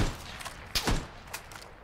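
A short burst of gunfire in the battle royale game PlayerUnknown's Battlegrounds, a couple of sharp cracking shots close together mid-clip, loud against quieter game ambience.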